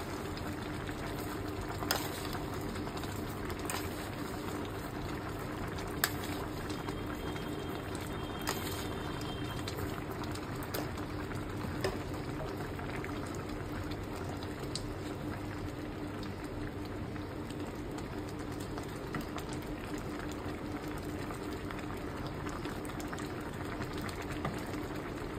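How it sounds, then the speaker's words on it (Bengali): Sour mango pickle mixture with sugar bubbling at a boil in a pot, a steady close bubbling and popping hiss that continues evenly throughout with no talking. "বলক এসে পড়ছে, অনেক টক আম"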